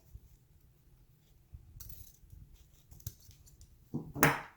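Scissors snip a napkin tie at an angle in a few quiet, separate cuts, and a louder scrape and rustle follow at the end. No speech is heard.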